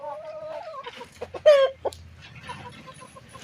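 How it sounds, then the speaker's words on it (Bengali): Desi chickens at a market clucking close by, a few sharp squawks and clucks in quick succession with one louder cry in the middle. "দেখুন মুরগিগুলো কি তেজি মুরগি দেখুন"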